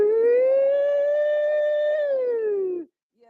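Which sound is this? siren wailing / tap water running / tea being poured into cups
siren wailing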